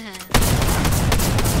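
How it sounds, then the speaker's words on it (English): Shotgun fire in Fortnite, a spam-style shotgun blasting in a loud, dense burst that starts abruptly after a brief quiet lead-in and stays sustained to the end. "You know the one shotgun you hate, Isaac? You actually hate the spam shotgun?"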